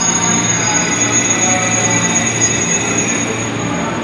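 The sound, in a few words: KRL commuter train departing Manggarai station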